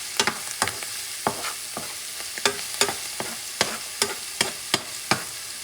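Garlic frying in a pan, stirred by hand: a steady sizzle with about a dozen sharp scraping strokes at an irregular, fairly quick rhythm, close and clear, with no voices.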